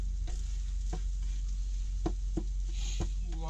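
Food frying on a hot skillet while a utensil scrapes and stirs it, a steady low sizzle with a handful of soft scraping taps spaced irregularly, close by.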